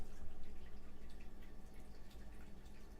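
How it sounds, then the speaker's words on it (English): Heavy rain pours steadily outside, a dense continuous hiss with scattered drips and patters, fairly close and unbroken for the whole stretch, with no voices. "It's pouring outside here."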